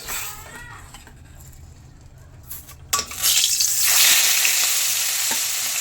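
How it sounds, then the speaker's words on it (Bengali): Small charapona fish fry in hot oil in a pan, a steady close sizzle that flares louder and brighter about halfway through and stays crackling to the end. "আজকে একদম মাছটা ভেজেই রেখে দেবো।"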